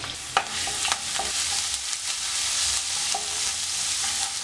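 Ginger and garlic frying in sunflower oil in a pan, an intense close crackling sizzle with sharp spatters and stirring knocks scattered through, no one talking.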